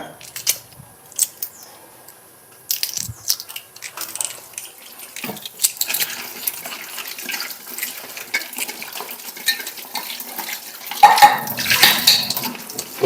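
Dried salted fish is washed in water at a kitchen sink, with close splashing, clinks of a pot or bowl and trickling water, growing busier and louder toward the end.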